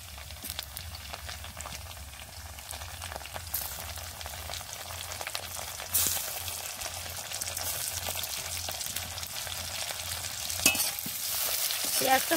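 Chopped onions frying in a pan while fish curry is cooked, a steady crackling sizzle with occasional stirring scrapes and a low background hum throughout.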